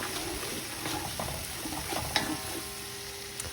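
Cilantro sautéing in a big pot with bacon drippings for arroz con gandules, giving a steady low sizzle with soft stirring scrapes and a brief clink near the middle, close by and fairly quiet.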